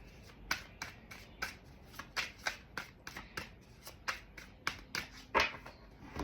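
A deck of tarot cards is shuffled by hand in steady rhythmic bursts, each riffle a sharp papery flutter repeating about every half second, close and clear with no talking.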